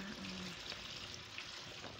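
Heavy rain pours onto and leaks through a sagging tarp roof over a simple, leaky house, a steady dense rush of water and patter filling the whole clip with no pauses.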